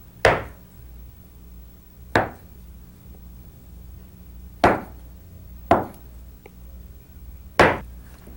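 A knife chopping through pastry rolls on a board: five sharp, separate thunks spaced a second or two apart, close and crisp against a quiet background.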